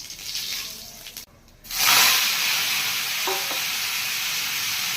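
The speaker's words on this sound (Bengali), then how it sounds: "তার সঙ্গে 5 ফোড়ন দিয়ে দেবো।" Panch phoron and a dried red chilli crackle and sizzle loudly in hot oil as they temper, a steady close frying hiss after a brief quieter moment.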